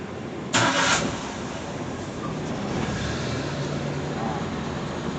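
A motorcycle engine cranks with a short burst from neutral, then settles into a steady, rough idle that runs on evenly for several seconds.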